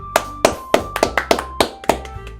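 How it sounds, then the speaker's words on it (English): Applause in the Doki Doki Literature Club Plus video game, about eight crisp, evenly spaced claps of a small group, close and dry, with no talking over them. "Sayori finishes. We applaud."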